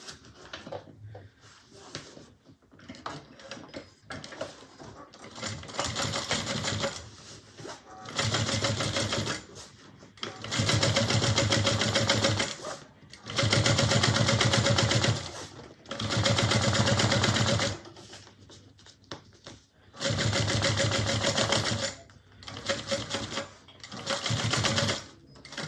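Sewing machine top stitching a bag lining, running in several loud bursts of rapid needle chatter separated by short pauses, with quiet handling and faint talk in the gaps.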